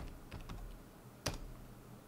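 Typing on a computer keyboard produces a handful of faint, soft key taps in a quiet room, with one sharper click near the end.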